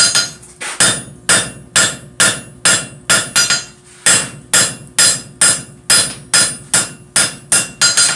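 Hammer blows forging and straightening hot metal at a live forging session, roughly sixteen loud, close, ringing strikes in steady pairs and runs with a brief pause partway through.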